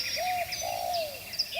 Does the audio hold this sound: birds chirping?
yes